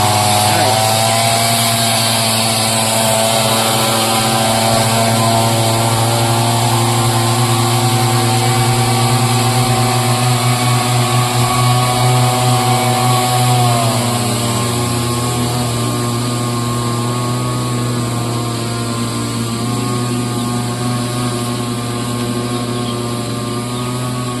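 A motorized tea-leaf cutting machine runs loud and close, a continuous droning engine whine whose pitch dips and rises as it works through the tea bushes.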